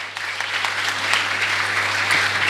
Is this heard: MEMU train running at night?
no